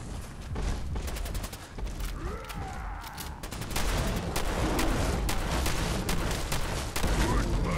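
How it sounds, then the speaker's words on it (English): Shotgun blasts at a Deathclaw in Fallout 4: dense, loud, repeated firing with broadband booms through most of the clip, mixed with game noise and excited talk. "This shotgun is a lifesaver."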